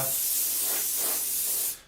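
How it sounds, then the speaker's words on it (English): An airbrush at fairly high air pressure sprays dark grimy weathering over a scale model, giving a steady, loud broadband hiss that runs without pause for almost two seconds before cutting off. "This is just going to get a small spray right the way over everything, just to blend it in, so quite a high air pressure"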